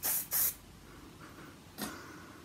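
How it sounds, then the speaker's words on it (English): Fern McCann Extra Hold hairspray comes out of an aerosol can in two quick close hissing bursts, then a softer third spray, with no talk. "So this is the Fern McCann Extra Hold Extra Firm Hairspray with added provitamin B5."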